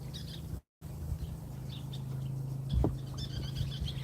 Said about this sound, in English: I hear those birds